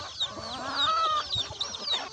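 Country hens on a free-range farm cluck in a steady stream of overlapping calls and short squawks, nearby and fairly loud.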